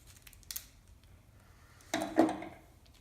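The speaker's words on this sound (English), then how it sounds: "Wire snippers." Wire snippers close on wire during a channel project build: a faint clipped click early, then a louder, sharper snip and metallic crunch near the end, heard alone in a quiet room.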